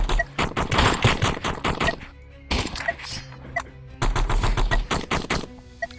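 Gunfire in the animal shooter game Animal Rivals, rapid bursts of sharp shots in dense volleys separated by short pauses, loud and close with no voice over them.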